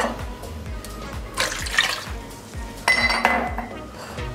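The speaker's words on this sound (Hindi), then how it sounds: "पानी ऐड करेंगे इसमें 4 छोटे गिलास।" Water poured into a cooking pot while making Pakistani beef and potato curry, splashing bursts with metal pot clinks over a steady kitchen hum, no talk.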